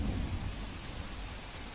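Heavy, continuous rain pours down in a dense, steady roar during a days-long downpour in Bhalodara village, Dabhoi, near Vadodara, with no voices.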